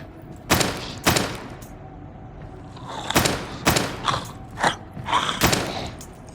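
Gunshots from a video game boom out in sharp, separate blasts: two early shots, a pause, then a quicker cluster of five or six near, loud reports.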